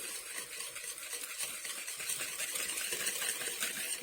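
Yogurt cake batter is mixed vigorously in a bowl, a fast continuous whisking and scraping close up, fairly quiet and without talk.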